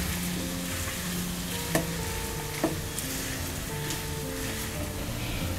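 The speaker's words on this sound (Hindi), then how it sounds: "आलू को हम अच्छे से मिक्स करेंगे।" Boiled, peeled and mashed potatoes are stirred in a pan over low heat, a soft continuous sizzle and scrape with a couple of sharper knocks from the spoon, with no talking.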